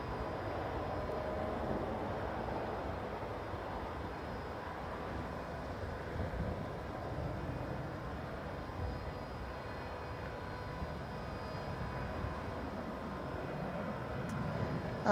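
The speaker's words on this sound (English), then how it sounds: "AirBaltic here will land on this runway and not on the departuring runway" An airBaltic airliner approaches to land on runway 19 left at Stockholm Arlanda. Its engines make a faint, distant, steady roar that holds evenly without any talk over it.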